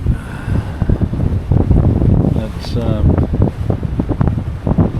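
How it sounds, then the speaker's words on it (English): Strong wind at sea aboard a sailboat near Beverage Reef, gusting and buffeting the microphone in loud rushes, with someone talking over it. "there's no respite from the wind"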